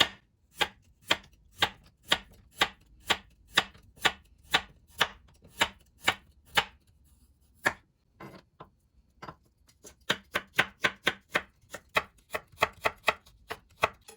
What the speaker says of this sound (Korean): 그리고 당근도 얇게 채 썰어주세요.